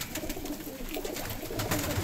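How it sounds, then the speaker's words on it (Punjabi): Pigeons of a blue-winged Punjabi flying breed coo softly in a loft, a steady low murmur of calls with no one speaking over them. "ਇਹ ਦੇਖੋ ਕਬੂਤਰ"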